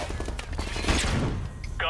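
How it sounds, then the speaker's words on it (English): A flashbang detonates in a military simulation video game, a short sharp burst surrounded by dense combat noise, with voices talking over it. "Flashbang now."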